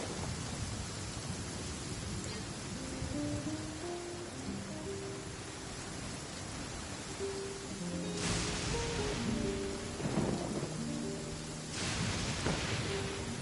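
Steady rain in the video game Hidden Strife Event, a constant wash of downpour with faint musical tones threading through and louder bursts of thunder rumbling in twice near the end.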